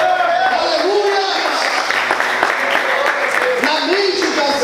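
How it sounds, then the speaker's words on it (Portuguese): A church congregation applauds the Lord during an evening worship service, a steady wash of many hands clapping that runs throughout under a speaking voice. "Aplauda o Senhor e exalte a Deus nessa noite."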